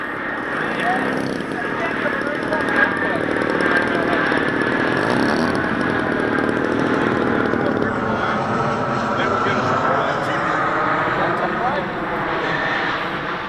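A model Taylorcraft airplane's engine drones steadily overhead with a buzzing, slightly shifting pitch as it flies past, loud and continuous, with people talking over it.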